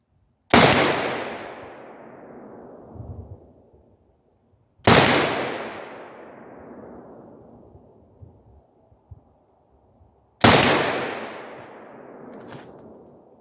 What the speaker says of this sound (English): So that's 5 shots.